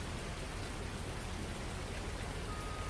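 Rain falling in the video game Farming Simulator 19, a steady, dense hiss of rainfall that stays even and unbroken throughout.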